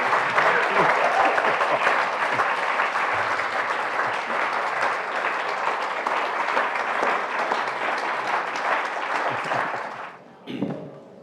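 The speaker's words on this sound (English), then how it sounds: "one more round of applause" An audience gives a steady, full round of applause, dense clapping from many hands holding at a constant level before fading out near the end, with a brief murmur of voices afterward.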